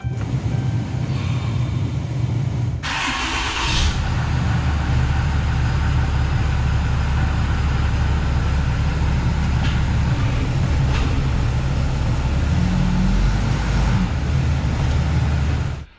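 Dodge RAM 3500 Cummins diesel truck engine cranks over and catches, then runs at a steady, loud idle, with a brief rough burst early on and no talk over it.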